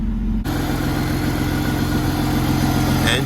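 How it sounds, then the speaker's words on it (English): A BMW E46 engine starts abruptly after a brief quiet moment and settles into a steady, loud, close-up running drone with a firm low rumble, holding roughly even without clear rev spikes. "Let's see how the revs sound."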